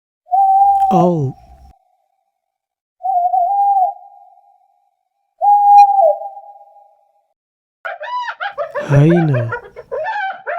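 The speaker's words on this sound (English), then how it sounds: "owl," An owl gives short, clear, steady hoots with gaps between them, followed by a rougher burst of excited, wavering calls, close and alone.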